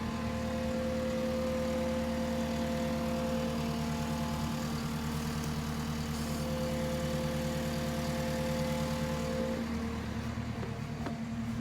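A skid steer engine running steadily during a VW Beetle body removal, a continuous loud droning rumble with a constant pitch and no breaks, heard close with no clear voices.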